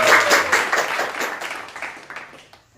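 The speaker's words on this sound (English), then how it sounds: "Please give a applause." An audience applauds a guest star welcomed onto a talk-show stage, a dense burst of clapping that is loudest at the start and gradually thins and fades over a few seconds.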